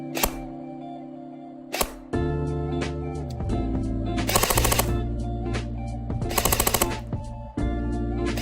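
A Classic Army DT-4 double-barrel M4 airsoft gun fires close by, shooting around 14 BBs per second. Isolated sharp shots give way to two loud, rapid full-auto bursts over a steady mechanical hum.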